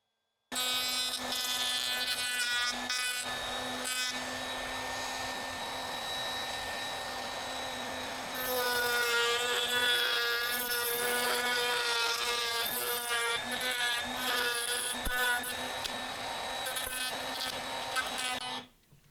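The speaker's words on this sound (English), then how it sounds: "I'm just putting the handheld router into the vise. I've got a chamfer bit installed, and it's just barely exposed to take the corners off." A handheld router fitted with a chamfer bit and clamped in a vise whines steadily as it rounds the corners of wooden coasters, its loud continuous tone shifting in pitch as the workpiece is fed.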